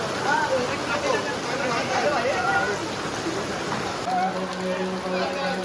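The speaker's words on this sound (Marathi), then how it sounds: "आणि जोरदार पाऊस आहे, जोरदार" Heavy rain pouring down steadily during an outdoor village Satyanarayan puja in the Konkan, a dense continuous hiss with people talking over it throughout.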